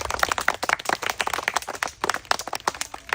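Children's game-show audience clapping at a spin-the-wheel prize giveaway, a dense patter of many hands in quick irregular claps, fairly close and steady throughout with no talk over it.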